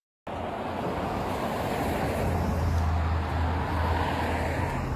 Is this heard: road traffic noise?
yes